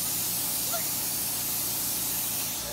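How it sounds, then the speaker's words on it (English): A spray tan gun sends out a steady, loud hissing mist from close by, continuous and unbroken for the whole few seconds. "Derek is getting spray tan"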